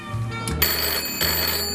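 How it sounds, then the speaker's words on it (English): A telephone rings in a talk-show studio setting, heard as a steady electronic trill under a faint room murmur, with no speech over it. "I thought I heard the phone."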